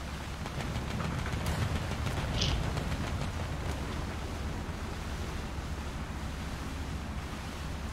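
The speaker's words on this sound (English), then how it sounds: "Every time the wave splashes, I go into water." Ocean waves wash and splash against a listing ship in the naval combat game War Thunder, a continuous low rumbling surf with wind-like noise and a slight swell midway, steady and fairly quiet, with no speech.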